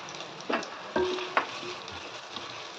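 Small shallots sautéing in a pan for channa biryani, a low steady sizzle broken by a few sharp scraping stirs, with no talk.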